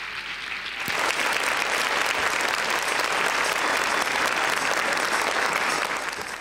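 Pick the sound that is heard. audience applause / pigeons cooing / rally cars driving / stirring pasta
audience applause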